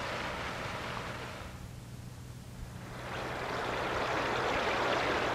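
Fountain water splashes continuously in downtown Dayton, a broad hissing rush that dips in the middle and then swells louder again, with a low city hum beneath.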